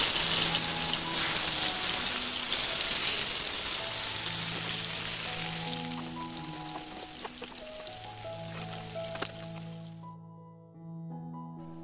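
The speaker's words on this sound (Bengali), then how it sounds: "এখানে আমি পাঁপড় ভেজে নেব" Papad frying in hot oil gives a loud, steady, crackling sizzle that runs for about ten seconds before cutting off abruptly, with soft background music underneath.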